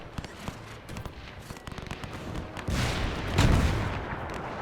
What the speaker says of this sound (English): the artillery is landing close to me